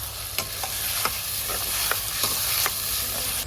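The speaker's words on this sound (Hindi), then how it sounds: "ऐड करेंगे इसमें चॉप की हुई प्याज, अदरक और हरी मिर्च। प्याज डालते समय आप थोड़े से पीछे हो जाइए, नहीं तो घी के छींटे आपके ऊपर आ जाएंगे।" Chopped onion, ginger and green chilli fry in hot ghee with a steady, close hiss, broken by a handful of sharp spoon scrapes against the pan as it is stirred.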